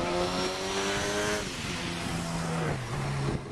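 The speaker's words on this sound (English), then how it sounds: "We've got a motorbike coming up beside us" An engine rises in pitch and then falls away in a steady whine as a motorbike draws alongside a bicycle on a road at night, loud and close.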